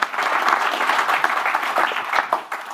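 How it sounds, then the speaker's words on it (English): Conference audience applauding a talk, a dense burst of clapping from many hands that stays steady for a few seconds and then thins out. "Didn't we say we was going to give a round of applause?"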